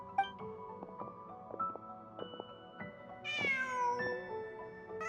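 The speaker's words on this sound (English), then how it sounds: "Just a cat." A cat meows repeatedly in Genshin Impact, several short tonal mews followed by a longer, higher drawn-out meow, close and clear against a quiet background with no speech.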